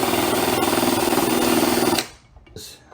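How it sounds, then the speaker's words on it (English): A power drill fitted with a chamfering bit smooths the edge of a hole in wood, a loud close whirring grind for about two seconds, then it stops and a few faint handling clicks follow. "This is just a chamfering bit, just to make that flat."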